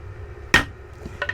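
A brake caliper piston seal on a C3 Corvette caliper is struck hard into place, giving one sharp, close impact followed by a fainter second knock about two-thirds of a second later.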